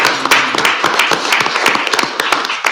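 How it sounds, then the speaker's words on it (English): A small group applauds at a city council meeting in El Centro, with close, uneven individual claps standing out over a light background of clapping, sustained throughout. "if we can please have a round of applause on behalf of our council."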